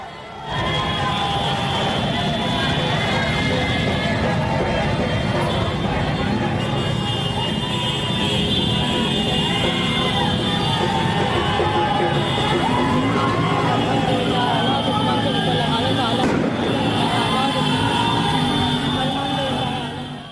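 A dense, loud crowd at a victory procession in Mhow shouts, cheers and yells without pause, voices overlapping into a continuous roar, with some vehicle noise mixed in.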